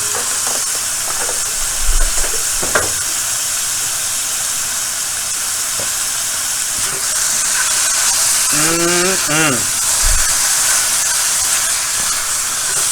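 Butter sizzling in a hot pan while making chicken Alfredo, a loud, steady, close hiss with a few knocks and a brief rising voice-like whine partway through.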